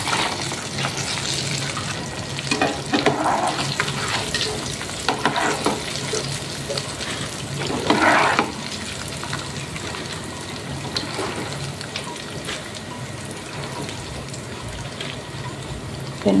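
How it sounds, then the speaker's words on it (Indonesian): Biji ketapang cookie dough frying in oil over medium heat, a continuous busy sizzle and bubbling with occasional stirring scrapes, close and fairly loud. "kita goreng di api sedang aja"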